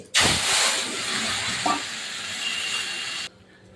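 Vegetable curry with fish hits hot spiced tempering oil in a pan, bursting into a loud, continuous hiss that holds steady for about three seconds and then cuts off abruptly.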